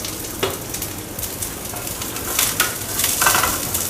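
Salmon slices searing in a hot pan with a dusting of smoked paprika give a steady close sizzle, with light scraping and stirring clicks that build a little louder toward the end.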